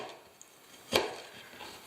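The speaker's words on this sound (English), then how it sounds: "So I can just cut it up into whatever size pieces I want" A knife cuts through a spiral-cut apple, giving one crisp, close chop that stands out against a quiet kitchen background.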